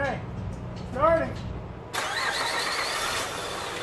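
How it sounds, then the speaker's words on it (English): A 2008 Honda Pilot engine cranks briefly and catches, settling into a steady idle close by, with a short voice heard beforehand. "Okay. Starting."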